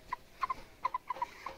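A farmyard hen gives a quick run of soft, clipped clucks, about a dozen short notes in an uneven rhythm, fairly faint against a quiet background.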